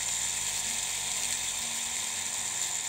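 An electric blender grinds round rice into a coarse flour, giving a steady, high, whining buzz that holds at a constant level.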